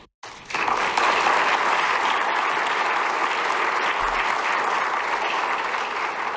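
A crowd at a drug court commencement ceremony applauds the graduates, the clapping starting abruptly after a brief silence and holding as a loud, steady, dense roar.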